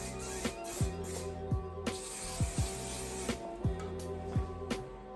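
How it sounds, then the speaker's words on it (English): Quick hissing bursts from a spray bottle of hair product misted onto natural hair while a bun is styled, short repeated sprays close by and fairly quiet. "we're just gonna spray just a little bit on there"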